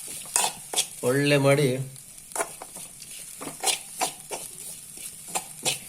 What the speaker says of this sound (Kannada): ಈಗ ಅದೇ ಬಾಣಲೆಯಲ್ಲಿ ತೆಂಗಿನ ತುರಿ ಮತ್ತು ಅರಿಶಿನ ಹುಡಿ ಇವನ್ನ ಹುರಿಬೇಕು